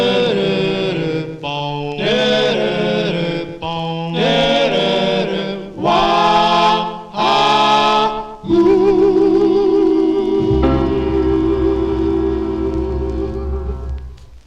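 A 1958 doo-wop vinyl record plays: a vocal group sings drawn-out, swelling harmonized phrases over a soft backing, ending in a long sustained chord that slowly fades.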